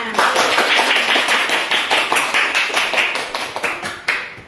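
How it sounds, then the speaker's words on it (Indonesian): A classroom of pupils clapping their hands together, loud and close, with rhythmic claps that start in unison and then trail off into a few scattered slaps toward the end. "Beri tepuk tangan dulu untuk kita semua."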